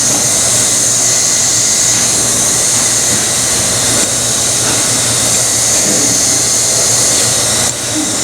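A hot air welding gun blows on a tent patch, giving a continuous, loud, even hiss like a strong hair dryer that holds steady throughout.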